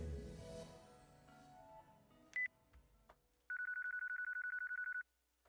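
A phone call ringing in the video game Yakuza 4: a short electronic beep and click, then a steady, evenly pulsed ringing tone that holds for about a second and a half before cutting off, over faint in-game background sound.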